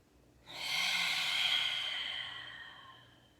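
A single long, forceful breathy exhale from a yoga lion's breath, loud and close, with a broad hissing rush that fades out gradually over a few seconds.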